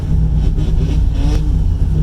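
A rotary engine car revs and burbles nearby with a steady low rumble and raspy, popping exhaust throughout.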